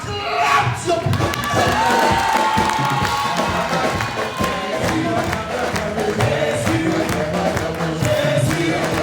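Church congregation cheering and shouting in acclamation of God during a sermon, loud and sustained with scattered thumps and claps, voices mingling throughout.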